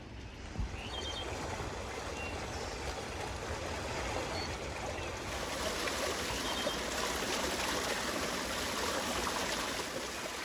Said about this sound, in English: While I'm washing the meat